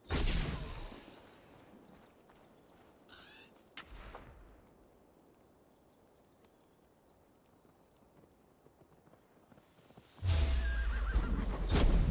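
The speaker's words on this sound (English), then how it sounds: "Now to deliver Magni his horse." Horse in Assassin's Creed Valhalla, a loud close burst at the start, a brief rough call near the middle over faint ambience, then a loud noisy surge at the end.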